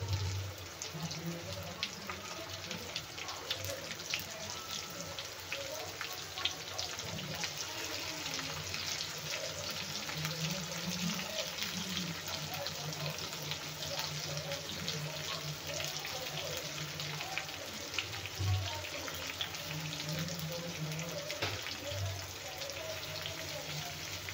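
Brinjal sizzling and frying in a hot pan with onions, a steady crackling hiss throughout, while a voice speaks over it.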